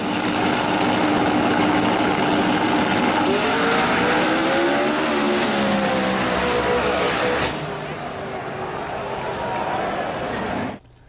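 A loud drag racing car engine at a no-prep race roars and climbs in pitch as it accelerates hard, then drops away and cuts off abruptly.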